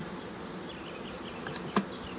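Honey bees buzz steadily during a large hive inspection, a soft continuous hum from many insects close by, with a brief louder buzz as one passes near.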